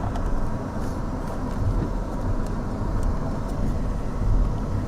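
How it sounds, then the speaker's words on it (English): Motorcade cars pulling away from an airport under escort, a steady broadband road rumble of several vehicles with continuous engine and tire noise, moderately loud and without speech. "It looks like all the cars are being escorted out in the same fashion."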